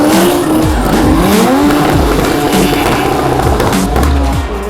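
A 13B rotary-powered Nissan 180SX and a V8-powered Mazda FC RX-7 drift in tandem at the Waimate 50 motorsport festival, loud engines revving and bouncing off the limiter amid sustained tire squeal.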